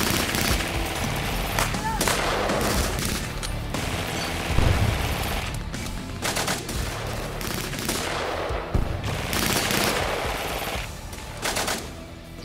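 Battle scene in a war film about the Battle of Rząbiec, with dense, loud gunfire and machine-gun bursts rattling continuously, booming shots layered over shouting voices.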